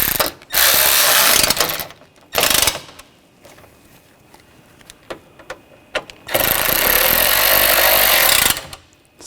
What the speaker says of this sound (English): Now I'll tighten these down.